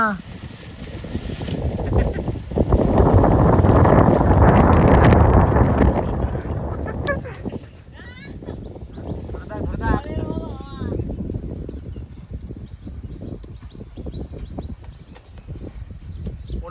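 Strong gusts of outdoor wind buffet the microphone in loud low rumbling bursts, peaking early then easing into lighter intermittent buffeting, with voices talking briefly in the background.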